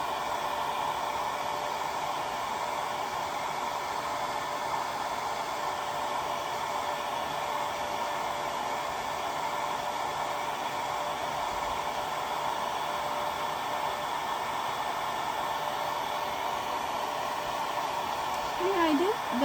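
Hair dryer blowing steadily over a watercolor painting on paper, a continuous loud whooshing roar that holds evenly throughout, with a brief squeak near the end.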